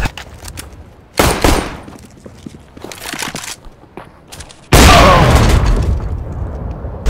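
Gunfire in CS:GO: scattered sharp shots and short bursts, then a loud sustained volley or blast that tails off, close and punchy, with no speech.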